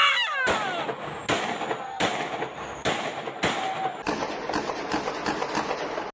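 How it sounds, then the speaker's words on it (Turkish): Shotgun blasts fired at a workplace by an angry man in the street, a series of loud sharp reports spaced roughly a second apart, then a faster run of shots, heard from some distance with street echo. "Pompalı tüfekle iş yerini basan öfkeli adam sokak ortasında iki şarjör boşalttı."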